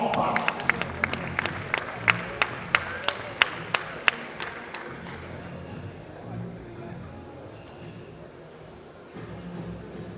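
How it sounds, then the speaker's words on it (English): An audience at an awards event claps for Chief Olusegun Osoba, former Governor of Ogun State. Loud, individual claps stand out at first, then the applause settles into a softer murmur of clapping and crowd noise. "Ladies and gentlemen, please, a round of applause for our very own Chief"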